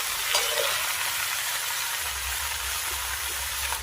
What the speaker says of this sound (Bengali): আস্তে আস্তে করে নাড়বো